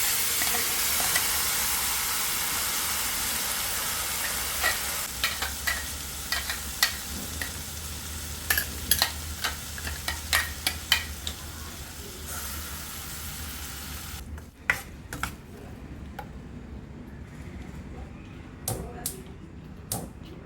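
A ground onion and tomato mixture sizzles and hisses steadily in a hot pan while it is stirred, with scraping clicks of the spoon. The frying is loud at first, then eases.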